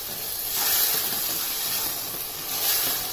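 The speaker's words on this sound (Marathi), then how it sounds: "आता ह्यामध्ये आपण थोडंसं पाणी घालूया आणि याला एक उकळी आणूया" Hot paneer masala gravy hisses and sizzles as water goes in, a broad steamy hiss that swells twice, near and fairly loud, with no talking.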